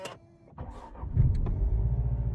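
A Jaguar F-Type 2.0 engine starts up close and settles into a steady, low rumbling idle after a short click and whir.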